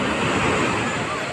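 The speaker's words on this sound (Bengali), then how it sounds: "অনর্গল ঢেউ দিচ্ছে" Sea waves wash continuously onto crowded Digha beach, a steady close roar of surf mixed with wind buffeting the microphone.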